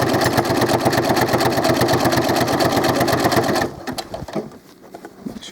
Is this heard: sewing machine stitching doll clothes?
yes